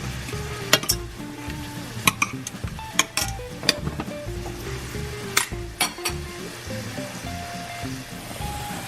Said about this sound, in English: I flip the shrimps on one side, and then after a minute I'll flip them back on the other side again